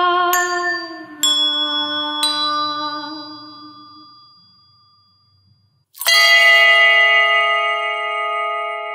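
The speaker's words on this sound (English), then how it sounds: "I interrupt bell ringing music." Three bell strikes ring out and decay slowly, fading almost to silence before a louder, brighter bell strike bursts in and sustains.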